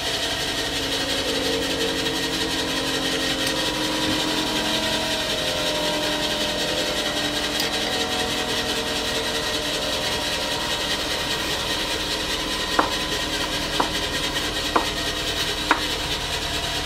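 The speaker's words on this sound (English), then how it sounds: "I had to grind off that burr" A grinder takes a burr off a hardened steel die from a Toledo No 1 pipe threading machine, giving a steady, close, rough whine with a few sharp ticks near the end.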